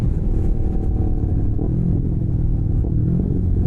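A rebuilt Yamaha R3 motorcycle pulls away under acceleration, a loud, close, steady low engine rumble with road noise and no break.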